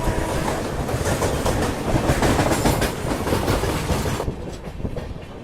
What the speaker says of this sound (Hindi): काफी तेज निकाला है मालगाड़ी।